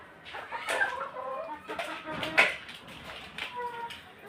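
Chickens on a small home farm, a flock of about nine hens, clucking and calling in scattered bursts at moderate distance, with low background noise.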